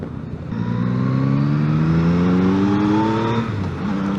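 Yamaha motorcycle engine, from the MT-07, XSR 700 and MT-09 range, pulling away under light throttle; a loud, close, rising drone whose pitch climbs smoothly through the gears, then briefly dips near the end, with no talking.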